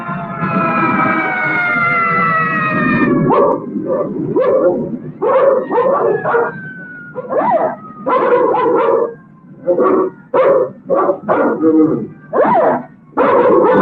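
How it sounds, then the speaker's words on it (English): Wailing sirens of emergency vehicles from the Red Cross, fire department and police rise and fall in overlapping tones, then give way to choppy, yapping bursts over a faint lingering siren tone. "You hear those sirens?"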